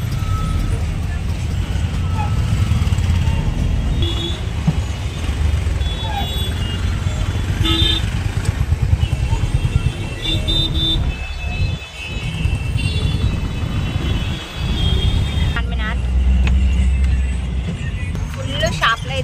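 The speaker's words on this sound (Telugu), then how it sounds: "ఫుల్ ట్రాఫిక్ ఉంది ఈరోజు అయితే." Heavy midday street traffic at a busy market crossroads in Madina: a continuous loud roar of motorcycles and vehicles with scattered horn toots and beeps, and voices mixed into the din.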